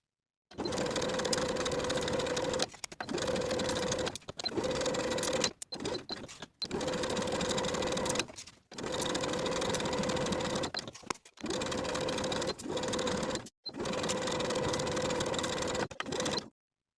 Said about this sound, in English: Sew with a 5/8 inch seam allowance, pivoting your way around the entire top edge